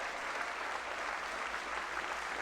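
Steady, dense applause from Democrats in a legislative chamber, many hands clapping evenly at moderate loudness without a break for the whole stretch.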